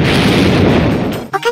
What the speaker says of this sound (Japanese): 触れた状態でオーラ使うと爆発するの。